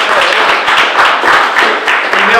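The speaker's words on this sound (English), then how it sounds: "Round of applause." An audience applauds loudly and continuously after a speaker is introduced on stage, a dense wash of many hands clapping that holds steady throughout.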